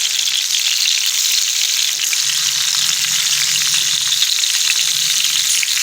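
Eggplant slices frying in hot oil in a home kitchen, a loud, dense, continuous sizzle with a faint low bubbling underneath and no talk.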